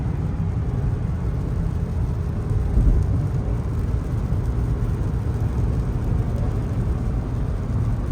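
Steady rain during a nasty storm in Minnesota around a road construction area, a dense continuous wash of rainfall and low rumble from start to finish with no talking.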